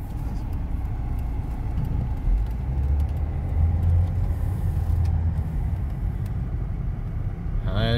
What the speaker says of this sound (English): we shall enjoy the 5-cylinder noises of a Volvo turbo diesel